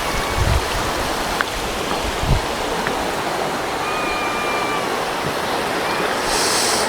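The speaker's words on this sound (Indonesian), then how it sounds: "Nah, sungainya kayak gini." Steady rushing water of a clear, flowing river at a campsite, a continuous broadband wash that stays even throughout, fairly close, with no voices.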